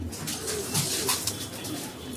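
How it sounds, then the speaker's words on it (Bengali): Racing pigeons of good bloodlines crowd wire cages, cooing in a steady overlapping murmur with brief louder bursts and soft flutters, close by and with no talk. "প্রত্যেকটা খাঁচায় অনেক কবুতর"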